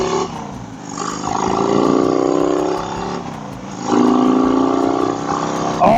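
A Harley-Davidson motorcycle engine revs hard through the gears, two long rising roars with a pause between shifts, loud and close with a throaty rumble.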